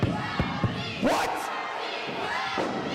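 A wrestling event crowd roars and cheers in a big surge after a few sharp thuds, the noise of many voices swelling and fading while shouts cut through.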